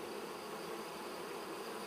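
Honeybees swarm around opened hives as frames of capped brood are lifted, a steady dense buzzing hum that fills the air evenly throughout.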